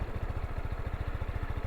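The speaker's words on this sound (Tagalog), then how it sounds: "Pag naka-idle, ganito yung tunog niya." Close-up Euro Motor Samurai 155i V2 motorcycle engine idling, its exhaust putting out an even, fast burble of low pulses with no voices.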